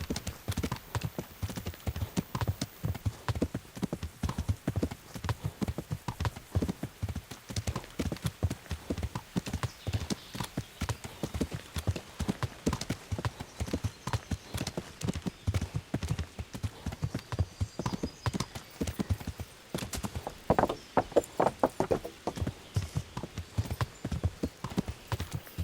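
Rapid, steady clip-clop of horse hooves trotting in the video game Kingdom Come: Deliverance for a long stretch, close and rhythmic, with occasional faint background noises.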